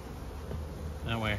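Honey bees buzzing around an open beehive during a hive inspection, a close, dense drone with individual bees flying past and rising in pitch near the end.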